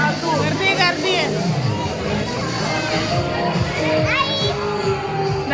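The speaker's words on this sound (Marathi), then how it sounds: "गर्दी आहे." A crowd of children at a birthday party fills the space with overlapping chatter, squeals and shouted voices, a dense continuous babble close around.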